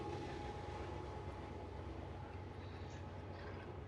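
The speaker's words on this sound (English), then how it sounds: "I got the train going by." A train rolls past continuously at steady volume, a broad low rumble and rail noise filling the whole stretch with no talking over it.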